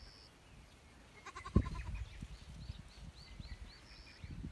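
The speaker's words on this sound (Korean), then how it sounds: "저쪽에 염소가 풀 속에 있어." A goat bleats once from the grass in a pasture where a mother goat stands with a two-day-old kid. The bleat is faint and somewhat distant over a quiet outdoor background with light rustling.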